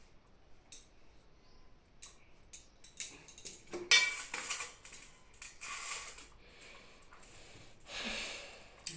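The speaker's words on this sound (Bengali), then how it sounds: "এই যে ভাত বাড়া হচ্ছে।" Dishes and utensils clattering while rice is served at a home meal: scattered light clinks, scrapes and taps, mostly soft and close, with occasional louder knocks and no clear talk.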